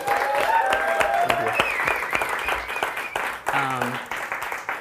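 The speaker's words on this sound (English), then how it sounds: "Can we have another round of applause for him," An audience at a spoken-word and music event applauds a musician with steady clapping and scattered cheers, while a host speaks over the applause.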